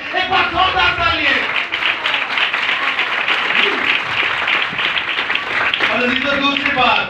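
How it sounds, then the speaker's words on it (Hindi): Loud, dense applause from a church congregation fills the space continuously, with voices mixed in and harmonic tones rising near the start and end. "खुदा के खौफ के लिए एक बार जोरदार तालियां।"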